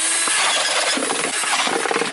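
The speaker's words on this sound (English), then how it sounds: "drill holes in our coffee containers" A power drill bores holes into plastic coffee containers, giving a loud, steady grinding whine with a rough, uneven texture throughout, alone without voices.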